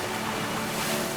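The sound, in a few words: ocean waves at Irish surf break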